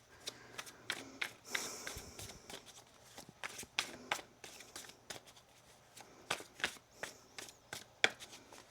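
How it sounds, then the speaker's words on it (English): Tarot cards are shuffled repeatedly in crisp, irregular bursts of riffling and slapping, close up and fairly quiet. "One more shuffle here"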